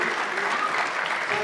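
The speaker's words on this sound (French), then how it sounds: "applaudis s'il vous plaît" An audience claps at the launch of a Facebook Developer Circle in Port-au-Prince, a short dense burst of applause that is loud and steady throughout.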